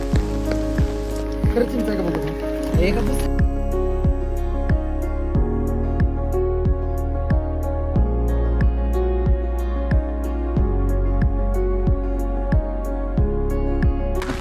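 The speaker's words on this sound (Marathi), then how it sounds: "आता इकडं लय पाऊस चालू आहे कंटिन्यू" Heavy monsoon rain falls steadily and drums on a hard surface close by, a dense continuous patter with repeated sharp drips, while someone speaks briefly early on.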